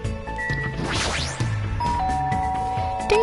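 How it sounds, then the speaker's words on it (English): Doorbell chime in the video game Danganronpa 2: Goodbye Despair, a ding-dong tone ringing over layered game music and effects, fairly loud and steady throughout. "Ding dong."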